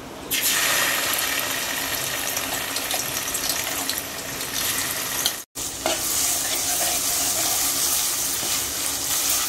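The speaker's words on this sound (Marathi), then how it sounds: "तेल चांगलं गरम झालं की आपण त्यामध्ये वाटण टाकणार आहोत" Ground masala paste for mutton rassa hits hot oil with a sudden loud hiss, then keeps frying as a dense, steady crackling sizzle up close, cut off briefly midway before resuming just as strongly.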